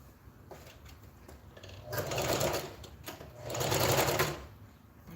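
A sewing machine stitches fabric for a gathered top in two close, loud bursts of rapid mechanical whirring and needle clatter, each lasting under a second, with quieter pauses and faint handling noise between them.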